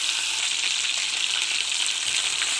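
Chicken frying lightly in a pan hisses with a constant, close crackling sizzle, even in loudness from start to finish with no voices.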